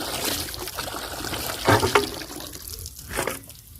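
Water gushes and splashes from a homemade hand-rocked pump drawing groundwater from a deep well, a steady close pour that swells in pulses with each stroke of the handle.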